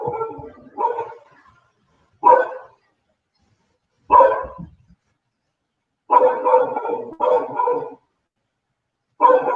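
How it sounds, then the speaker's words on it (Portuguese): Dogs barking in bursts of several sharp barks, separated by short pauses, fairly close and loud, with no one talking. "Os cachorros estão latindo, né?"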